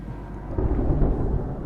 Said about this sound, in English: So apparently there may be a storm brewing.